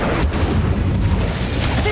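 A fire spell cast in Hogwarts Legacy gives a loud, sustained booming roar of flame and blasts that runs through the whole moment with little pause.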